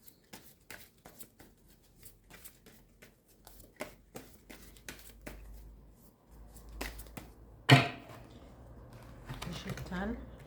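Tarot cards slid and spread across a table, a series of soft quick swishes and taps followed by one sharper slap, close and fairly quiet.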